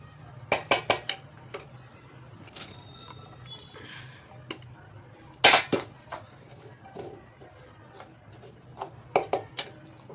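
Cooked wheat lapshi going into melted jaggery in a pan, heard as sharp clanks and scrapes of a utensil against the pan in short bursts with quiet gaps between them.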